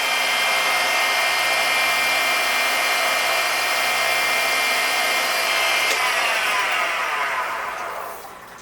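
A wood pen blank spins on a wood lathe while it is sanded through fine grits, giving a loud, steady whirring drone that holds for several seconds and then winds down as the lathe stops.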